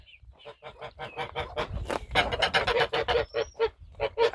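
Geese honk loudly and continuously nearby, a dense overlapping chorus of calls with no talking.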